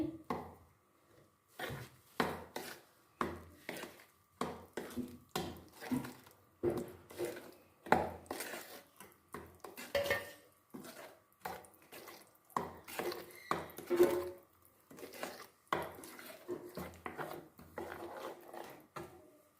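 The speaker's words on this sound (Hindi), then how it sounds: "अब इसमें हम 2 टेबलस्पून तिल डाल लेंगे और इन सबको हम अच्छे से मिक्स कर लेंगे।" Sesame seeds, cardamom powder and other ingredients are stirred together in a bowl, a steady series of soft scraping and rubbing strokes with a regular rhythm, close and fairly quiet, with no talk.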